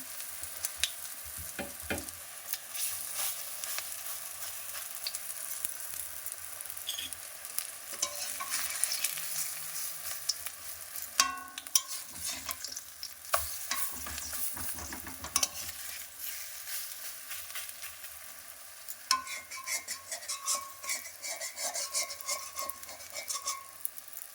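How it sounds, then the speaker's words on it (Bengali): Pumpkin flower fritters sizzle steadily in hot oil, with frequent scraping and stirring of a spatula against the pan and occasional light metallic clinks, close and continuous with no voices. "এই কুমড়ো ফুলের বড়া ভাজা"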